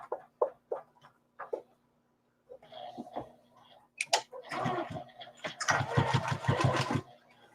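A sewing machine stitches binding onto a quilt in short bursts, then a longer run of rapid stitching, with a voice speaking between the bursts.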